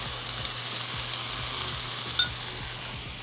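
Tofu frying in a little oil, in a pan being prepared for vegan chickpea meal prep, gives a steady close sizzle with a regular scraping stir repeating about twice a second and no talk.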